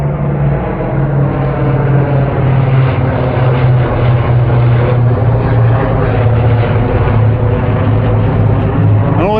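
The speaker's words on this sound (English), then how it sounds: "It's a big propeller, four engine propeller plane." A large four-engine propeller plane passes overhead with its landing gear down, a loud continuous droning roar with a steady low engine hum that holds throughout.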